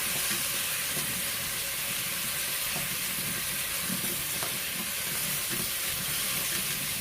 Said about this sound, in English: I'm going to stir it so that it doesn't burn.